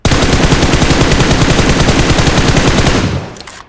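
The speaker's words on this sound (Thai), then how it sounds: "เดี๋ยวผมจะมายิงเปรียบเทียบให้ดูอีกรอบหนึ่งนะครับ เราจะวางเป้าไว้ที่เดิมเลยนะครับ แล้วก็ยิง" Sustained automatic fire from an M4 rifle in the PUBG Mobile video game, a loud, rapid continuous burst lasting about three seconds before cutting off abruptly, with no talking.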